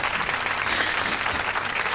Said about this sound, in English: We need some applause because it's a woman-owned business.